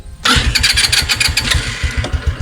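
A 125cc scooter cranks on its electric starter and catches, its small engine settling into a steady, close, loud running putter with rapid regular pulses and no voices.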